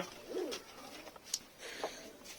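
Soft, low pigeon coos rise and fall in a short phrase, with a few faint chirps and rustles around them in a quiet setting.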